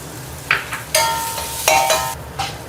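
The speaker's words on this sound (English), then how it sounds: "scallops in, shallots, garlic. I'm going to add just a bit of oil." Scallops, shallots and garlic sauté in oil in a pan, loud sizzling bursts with stirring scrapes rising and falling in waves, close up with no talk.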